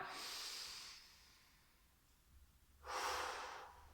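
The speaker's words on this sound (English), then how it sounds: "Take a calming breath in and out." A calm, deliberate breath during a seated core exercise session: a soft airy inhale near the start, a quiet pause, then a fuller exhale a few seconds later, close and gentle with no talking.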